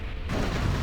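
A heavy Aurora bomber strike erupts in Command & Conquer Generals, a sudden dense booming blast that floods the sound and rumbles on without letting up.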